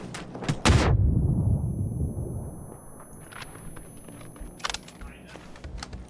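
A grenade goes off against an enemy in a video game: one loud, close blast with a booming low rumble that fades over several seconds, followed by a few fainter pops and clatter.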